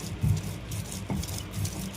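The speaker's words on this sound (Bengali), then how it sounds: "এবার ভাজা মশলাগুলোকে মা বেটে নিচ্ছে" Fried spices being ground by hand on a grinding stone, a close, rhythmic rubbing and scraping in repeated strokes, roughly three passes in quick succession, with no one talking.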